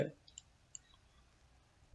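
A few sharp, faint clicks spaced out over a quiet background, like keys being pressed on a computer keyboard.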